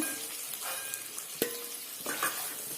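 Chicken pieces fry in hot oil for a Kashmiri chicken biryani, a faint steady sizzle broken by occasional stirring scrapes and light clinks of a utensil in the pan.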